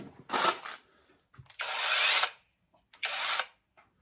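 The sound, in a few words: cordless pole saw chainsaw running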